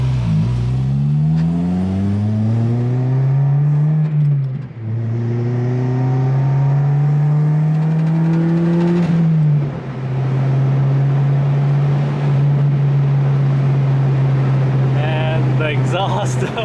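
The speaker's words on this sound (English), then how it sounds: "And the exhaust shift sounds good." An Acura RSX Type S exhaust drones as the engine revs, pitch climbing steadily in smooth pulls with dips at the shifts, then holding a steady loud cruise tone close to the microphone.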